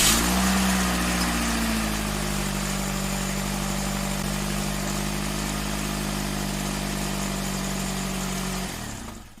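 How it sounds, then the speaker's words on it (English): A 2008 Vauxhall Vectra engine with a coolant temperature sensor fault idles steadily and close up, a smooth continuous hum that holds even before cutting off at the end. "I'm going to start the car."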